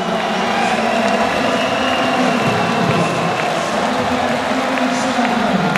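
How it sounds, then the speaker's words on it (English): Crowd at a boxing match cheers and roars continuously in a dense, loud wash of voices at the end of the rounds, with shouting rising and falling throughout. "You can hear the crowd."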